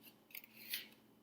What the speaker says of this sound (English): you're going to take your scissors again and you're going to cut